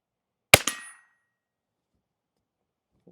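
A single sharp crack from a Browning BPR-22 pump rifle firing .22 Long Rifle, a clean metallic report with a short ringing tail, followed by near silence and a faint click.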